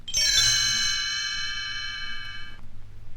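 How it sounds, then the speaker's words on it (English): Little bells chime once as a storybook page-turn signal: a bright, ringing tinkle that sustains clearly for a couple of seconds before cutting off, followed by a quiet soft background. "You will know it is time to turn the page when Tinker Bell rings her little bells like this."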